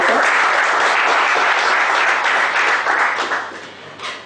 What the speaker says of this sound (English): please allow me to welcome you once again with a big round of applause.